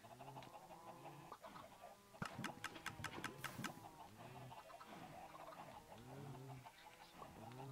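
Chickens on a farm in a video game cluck and squawk continuously, with a burst of sharper, rapid clucks partway through, close and with no one talking.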